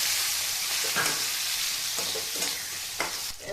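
Chopped tomato stirred into potatoes and eggplant frying in a pan for a spicy parshe fish curry, a continuous hiss of sizzling oil broken by several scraping strokes of the spatula, with no voices.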